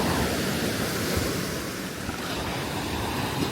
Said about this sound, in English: these waves I guess are causing a bit of erosion